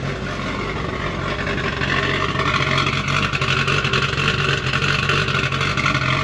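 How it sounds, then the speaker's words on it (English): A Toyota Supra MK3 2JZ-GTE engine runs rich at a rough, uneven idle on a dyno, loud and close, with a lumpy low rumble and no talking. "that's part of why you hear the car running so rich. It sounds like a nasty cam"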